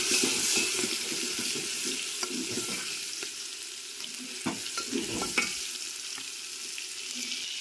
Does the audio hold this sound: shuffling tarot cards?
no